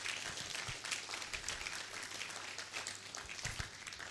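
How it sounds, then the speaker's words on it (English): An audience applauds at a university campus launch event, with dense, continuous clapping heard from a distance at low, even volume and no talk over it. "So I expect a louder applause."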